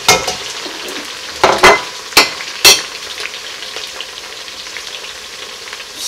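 Onions fry in a pot for Nigerian efo riro vegetable soup, giving a soft, steady sizzle broken by several loud, sharp clatters and taps of stirring.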